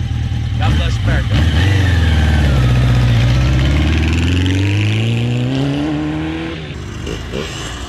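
A 1984 Honda Nighthawk S 700 motorcycle engine pulls strongly while riding, its loud low drone rising steadily in pitch through the gears before easing off, with wind noise and a voice speaking over it.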